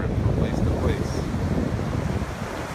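Calm ocean waves washing onto a beach at low tide on a windless day, a steady soft rumble of surf with light wind buffeting the microphone throughout.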